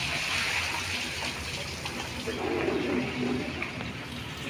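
Motor oil pours in a steady liquid gush into the rear shock absorber of a Hero Honda Glamour motorcycle during a repair, a continuous close trickle with faint background noise.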